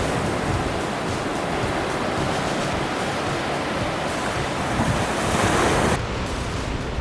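Ocean waves pound the shore at the Arahoho Blowhole in Tahiti, a loud steady roar of surf with wind buffeting the microphone and a brief surge near the end.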